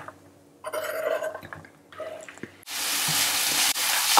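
Oil and chopped onion go into a frying pan, with stirring clatter and small bursts at first, then a loud, steady sizzle of the onion frying takes over for the last second and a half.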